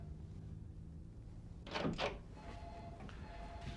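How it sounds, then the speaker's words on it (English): An indoor door is pushed shut, a pair of close, dull thuds from the door closing, set against a quiet room hum. "You shut the door."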